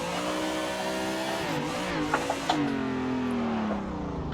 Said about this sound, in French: On emmène la voiture, hop, je freine, je la laisse partir, ça y est, j'accélère